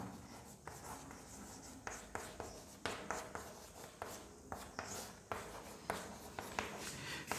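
Something is written on a board during a chemistry class, making repeated short tapping and scratching strokes at an uneven pace over a soft room background.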